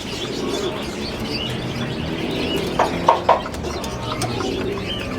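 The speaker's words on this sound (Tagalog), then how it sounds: "marami pang ibon dito sa Arangke" Birds coo and chirp outdoors at a pet market in Arranque, with a quick cluster of sharp calls standing out over steady background noise.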